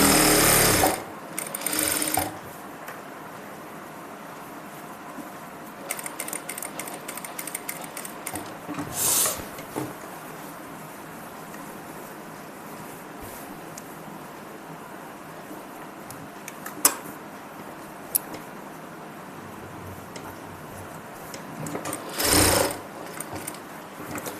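Sewing machine stitching square rows of stitches to attach a pocket onto a salwar, running in several loud bursts with quieter gaps between them, close up with no talking.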